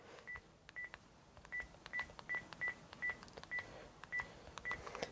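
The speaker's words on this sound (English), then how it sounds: "So let's take the house phone. I'll put it fairly near to my microphone so we can dial." A house phone's keypad sounds a quick series of short, evenly spaced dialing beeps held close to a microphone, about a dozen tones over a faint background hiss.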